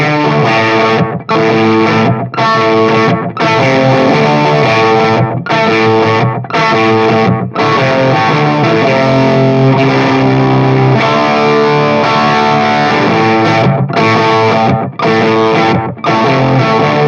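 Overdriven electric guitar played through a Dr. Z Maz 18 amp with a Nobels overdrive pedal stacked on top, a loud, continuous distorted riff with rhythmic chord stabs and brief gaps, heard alone without talk.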